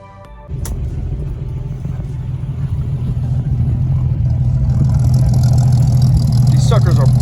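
A 1966 Ford Mustang's engine starts and runs close by, a low rumbling idle that gradually builds as the car sets off, with faint clicks near the end.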